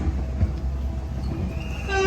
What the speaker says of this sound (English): Yeah, another train coming through.